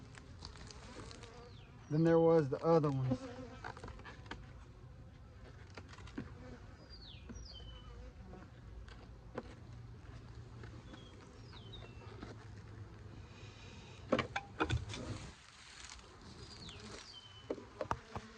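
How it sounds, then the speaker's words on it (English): Honeybees buzz steadily around an open beehive during the year's first spring inspection, a close, continuous droning hum with passing individual bees, while a person speaks briefly near the start and some handling noise occurs. "There was way more bees coming out of this one"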